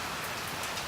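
Steady rain falling after a two-month dry spell, a dense, even hiss of drops on surfaces with no pauses, close and moderately loud throughout.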